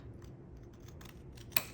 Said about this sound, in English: So I'm going to trim this excess off.